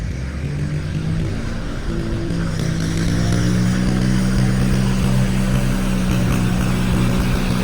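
Cat-A-Gator tracked vehicle droning steadily on a test drive, a loud low engine hum with a rough, rumbling tone that holds steady throughout, no talking.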